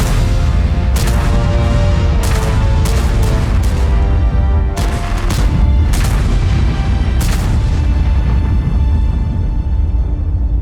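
Tank cannon fire in World of Tanks, a string of loud deep booms, some in quick succession and others spaced apart, over a constant heavy rumble with no voices.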